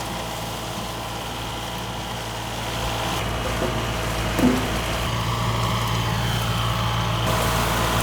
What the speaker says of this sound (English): On this day, a tractor was working in the neighboring rice field.